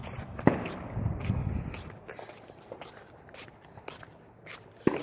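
Footsteps walking around a residential neighborhood at night during fireworks season, steady strides on pavement with a couple of sharp louder thumps near the start and end, fairly faint overall with no talking.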